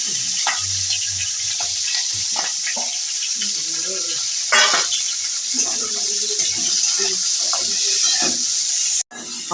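Onion, tomato and banana stem frying in a pan for a fish curry: a steady sizzle with intermittent stirring scrapes and clinks, a voice talking briefly in the background, ending in a sharp knock.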